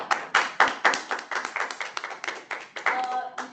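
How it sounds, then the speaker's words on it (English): Applause from an audience at a humorous speech contest, a run of sharp individual claps in uneven rhythm, fairly close, with a few voices murmuring underneath. "Can we please have a big round of applause for them?"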